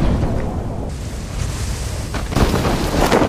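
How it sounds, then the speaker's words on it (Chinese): Old parachute-opening sound effect from the video game Peacekeeper Elite: a steady, dense rushing wind roar with no voices, swelling into a louder, brighter gust for the last second. "这是以前落伞的声音"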